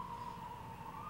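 Emergency vehicle siren passing outside during a church TV broadcast, a steady wailing tone held throughout, fairly faint and distant beneath low background rumble, with no talking.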